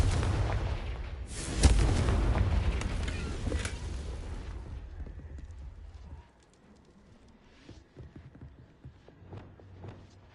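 A Confringo blasting spell explodes in the Hogwarts Legacy video game: a loud, booming burst with a sharp crack, then a rumbling decay that fades into quieter scattered rattles and thuds.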